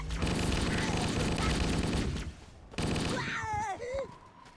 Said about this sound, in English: Kind of hard to control my shooting.